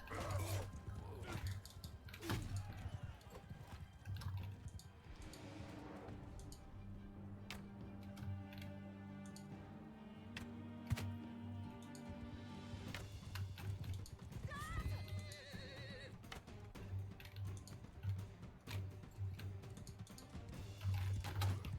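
Rhythmic clip-clop of horse hooves trots steadily alongside game sound effects in Mount & Blade II: Bannerlord, with a voice talking over the top.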